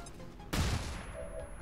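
A flashbang grenade going off in XCOM 2 as a single sudden sharp burst that decays quickly over a quiet background.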